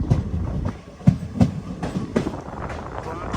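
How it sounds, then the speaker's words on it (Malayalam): A train rolls into Kumta railway station with a steady clickety-clack of wheels over rail joints, close and moderately loud, with a low rumble beneath. "കുംത റെയിൽവേ സ്റ്റേഷനിലേക്ക് ഇതാ നമ്മുടെ ട്രെയിൻ എത്തിക്കൊണ്ടിരിക്കുകയാണ്"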